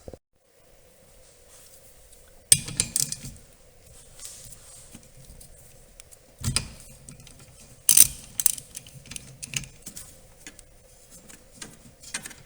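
A wrench removes two 13mm nuts inside a VW Golf Mk4, giving sharp metallic clanks and scrapes at intervals, with quieter ratcheting clicks and rattles between them, close by in a quiet space.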